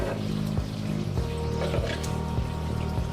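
A large aquarium fish thrashes in a net, throwing repeated sharp splashes and watery slaps at a close distance over a continuous background hum of running water and pumps.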